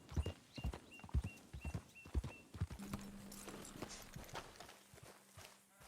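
Hooves of a Missouri Fox Trotter ridden in Red Dead clop in a quick, steady rhythm, close and distinct, then slow and fade out, leaving faint ambient tones and a soft whinny-like sound near the end.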